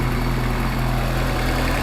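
A Toyota Corolla T Sport with a turbocharged 2ZZ engine idles steadily, a constant low rumble and hum with no revving, close and continuous, with no talking.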